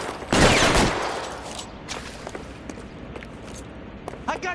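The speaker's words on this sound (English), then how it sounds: "I'll lay down some suppression fire." Gunfire during a police shootout in the video game L.A. Noire, a loud, close burst of rapid automatic shots followed by scattered single shots and footsteps against a background din.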